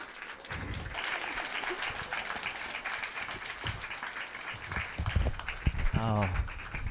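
A crowd at a poetry showcase claps to welcome a poet to the stage, a steady wash of hands with a few faint voices underneath, and a short sung or spoken sound near the end.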